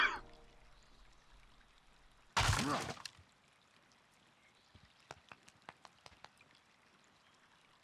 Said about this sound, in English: You're breaking reeds.